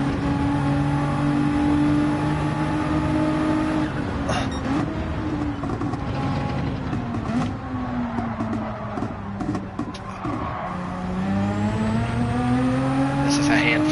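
Race car engine in the Gran Turismo 7 video game during a time trial at The Mountain, a loud continuous drone whose pitch rises and falls with gear changes, someone speaking over it.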